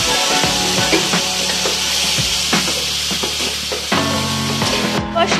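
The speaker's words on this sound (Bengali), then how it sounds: "সামান্য পরিমাণে জল দিয়ে মশলাটাকে ভালো করে কষিয়ে নিতে হবে।" Spice paste for a fish curry frying in a pan with a little water, a steady loud sizzle with occasional stirring scrapes, close and continuous.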